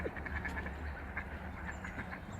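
A crowd of ducks quacking and squabbling in a busy, continuous chatter over a low background rumble.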